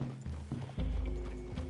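Horses' hooves clop in a few slow, soft, irregular steps in a wooded clearing in Red Dead Redemption 2, faint and close, with a low rumble underneath.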